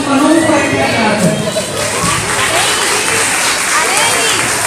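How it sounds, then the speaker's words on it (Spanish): A school spring festival audience claps and cheers in a dense, loud wash of applause with children's voices and shouts mixed in, sustained throughout. "lo recibimos con un fuerte aplauso."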